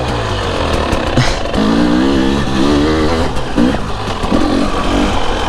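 A motorcycle engine revs hard and loud close by, its pitch climbing and wavering through repeated throttle blips. It runs continuously with no pauses.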